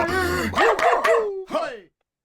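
A dog barks and yips in a short run of bright, close, pitch-sliding calls, ending with a falling whine before silence, as the opening of a dog-themed podcast.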